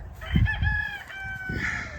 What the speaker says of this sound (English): Chickens are getting out.